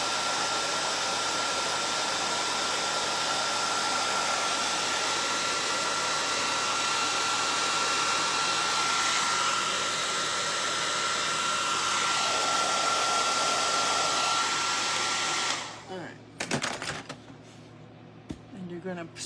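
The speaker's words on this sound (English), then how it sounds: "Nice hot dryer will do it." A hot hair dryer used on painted rocks blows continuously with a steady whooshing hum and faint whine, then switches off, leaving brief clicks and handling noises.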